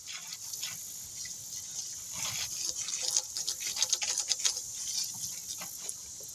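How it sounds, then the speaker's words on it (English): Water poured into a dug post hole for a carport support, a splashing, gurgling stream that swells into choppy bursts in the middle before easing, close by with no talking. "Get some water in the hole first."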